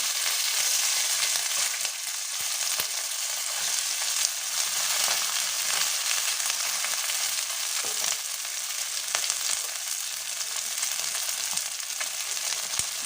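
Khoira fish sizzle lightly in hot oil in a pan, a continuous bright hiss that holds at an even level throughout with tiny pops scattered through it.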